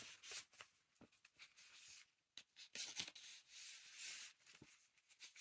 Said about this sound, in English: I'm just going to give the cards a little shuffle.